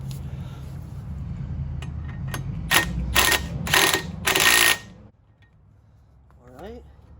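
A power tool zips bolts tight during a steering angle kit install on a Lexus GS300 (JZS147), a run of about five loud, rapid ratcheting bursts over low background noise, followed by a brief squeak.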